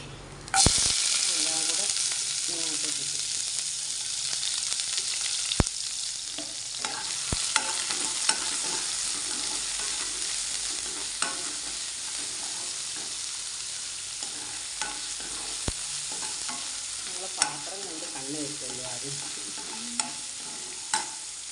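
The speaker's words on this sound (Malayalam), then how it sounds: "എണ്ണ ചൂടായി പിന്നെ നമ്മൾ ഇഞ്ചി വെളുത്തുള്ളി ഒരു സവാള" Ginger, garlic and onion fry in hot oil with a bright, steady sizzle. Occasional clicks and knocks of a spoon against the pan sound close by.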